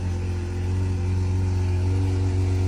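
A supercar engine idles after starting, a loud, steady low rumble with a constant hum that holds without pause, heard alone.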